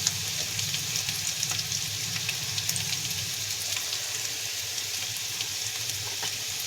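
Onion fries in a wok, giving a steady, even sizzle at moderate level with scattered small crackles and no voices.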